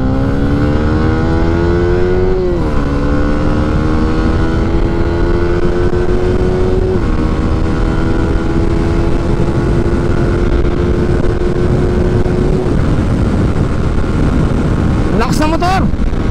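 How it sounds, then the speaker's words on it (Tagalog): A 2021 Yamaha Sniper 155 motorcycle engine revs hard and climbs through gears on a top-speed test ride in Clark, loud and close, with steady wind roar throughout. "Lakas ng motor!"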